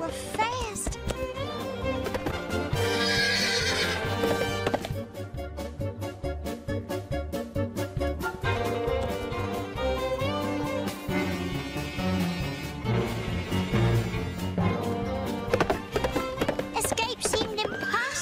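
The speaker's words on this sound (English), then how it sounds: "but their horses were fast" Horses gallop in a cartoon chase, a rapid clip-clop of hooves running under a dramatic music score, fairly loud, with a voice narrating over it; no neighing stands out.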